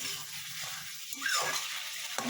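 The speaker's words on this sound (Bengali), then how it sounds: "চিনি দিয়ে এটাকে একটু ভালো মতো কষবো। এটা আমি একটু ভালো মতন কষে নেব।" Tomato sautéed with a little sugar in a pan, a soft, steady sizzle with stirring scrapes and a brief louder stir in the middle, close and alone.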